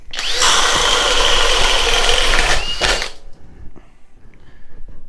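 An impact driver fitted with a 1.5 inch stinger bit runs in one loud, continuous burst of about three seconds, then cuts off, leaving quieter background rumble.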